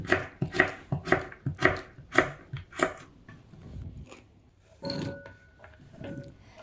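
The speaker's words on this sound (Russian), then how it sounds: "Дайкон я почистила. Так как он небольшой, то режу его полностью на небольшие кусочки." A knife chops daikon radish rapidly on a cutting board in a quick, even rhythm of about a dozen sharp strokes, then pauses before a few scattered cuts.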